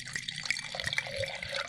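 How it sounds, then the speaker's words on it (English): Wine pours into a glass in a rainy Sonoma setting, a soft continuous trickle with small splashy gurgles, close and quiet, with no voices. "A beautiful rainy Sonoma pour by Sam Couturi."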